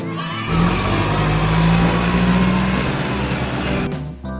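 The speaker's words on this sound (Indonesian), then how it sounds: "Crane truck." A crane truck's engine runs steadily nearby, a low droning rumble with a humming tone that holds for a few seconds before easing off.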